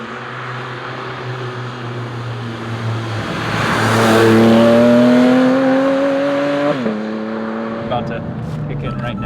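A 2023 Porsche GT4 RS engine revs up under acceleration, the pitch climbing across gear changes, swelling loud mid-clip then dropping at a shift, close and prominent without talk.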